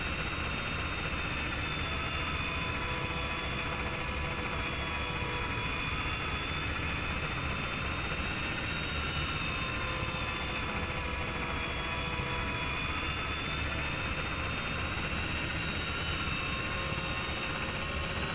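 A helicopter flies in a military video game, its rotor and turbine engine producing a steady, loud, unbroken drone with a high whine layered on top, heard from on board for a long stretch without speech.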